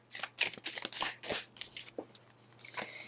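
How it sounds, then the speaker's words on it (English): Close, crisp riffling and flapping of tarot cards being shuffled in a quick series of bursts, with quiet handling between. "So I will allow 3 cards to fall out of the deck for us as I shuffle."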